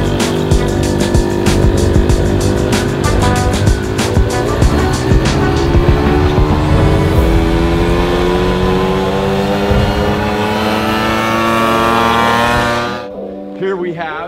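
Small motors on a 2024 Honda Motocompacto electric folding scooter and an original Honda Motocompo hum and buzz loudly and steadily as the scooters ride, with the pitch gliding upward before the sound suddenly drops away near the end.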